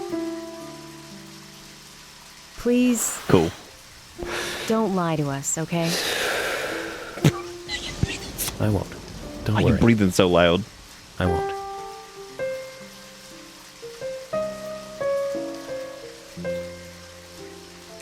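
Steady rain hisses in the horror video game Deadly Premonition, a soft continuous patter beneath character dialogue, heavy breathing and occasional musical tones.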